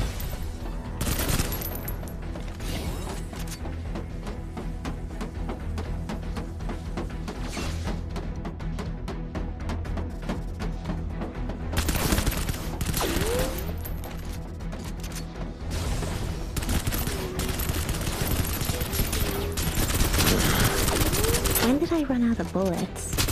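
Dense, continuous gunfire in the video game Snowbreak: Containment Zone, with sustained automatic bursts and crashing impacts over a game soundtrack and effects, loud throughout, with voices talking at times.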